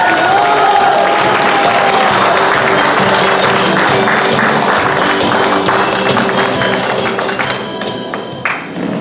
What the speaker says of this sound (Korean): 우리 크게 박수로 환영해 주시기를 부탁드립니다.